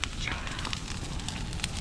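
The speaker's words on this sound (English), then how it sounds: "let's have a bonfire" A bonfire burns close by with dense, continuous crackling and popping over a low roar.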